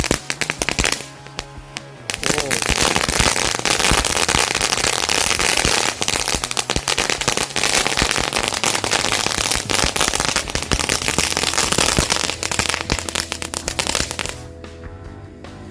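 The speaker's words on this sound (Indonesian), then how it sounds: "kita nyalain 3 pak sekaligus mercon telur dino" A long, dense barrage of crackling bursts from three packs of dino egg firecrackers, loud and continuous for over ten seconds before cutting off abruptly.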